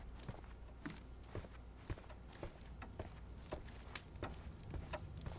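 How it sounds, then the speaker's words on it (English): Footsteps sound overhead in the Sherlock Holmes Chapter One video game, a steady run of evenly spaced dull thuds, muffled and faint against a constant low room hum. "I heard footsteps upstairs a second ago."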